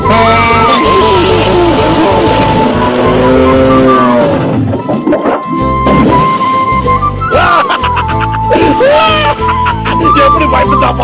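A car engine revs hard and loud in a Tamil film scene, the roar swelling and falling in bursts with tire squeal and skidding mixed in, while voices talk underneath.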